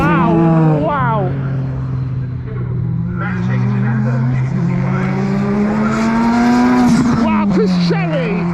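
Two Janetta time attack race cars corner at Anglesey, their engines howling with rising and falling pitch as they pass close and loud, while a commentator talks over the racing.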